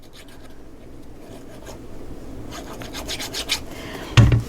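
Paper being trimmed for a mini album makes soft scraping and rubbing strokes, quiet and close, that grow a little busier before a sharper snip-like rustle near the end.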